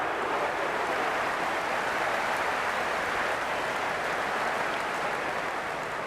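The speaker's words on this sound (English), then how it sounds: "It's evident and ever so audible that the crowd is at near bursting point at today's play." Dense, steady roar of a stadium crowd cheering at a Zimbabwe vs Pakistan T20I cricket match in the Cricket 26 video game, loud and continuous without letup.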